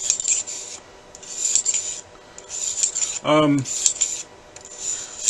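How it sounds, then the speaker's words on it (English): A brush scrapes back and forth through a pistol barrel in quick rhythmic strokes, a raspy scrubbing repeated several times, with a short metallic ringing clink midway. "We're going to brush the barrel."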